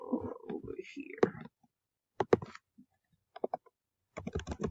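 Computer keyboard keys click in short bursts as a number is typed into an Excel spreadsheet. Quick clusters of taps are heard between stretches of nearby talking.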